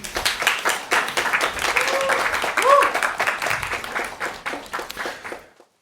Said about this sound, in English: Let's give a round of applause as well.